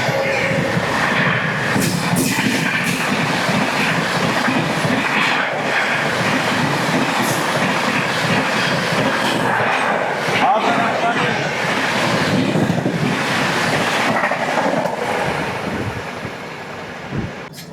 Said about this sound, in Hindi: अब आ गई है हावड़ा राजधानी